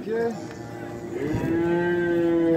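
A cow lowing at a livestock market, two moderately loud drawn-out moos over a faint background hum.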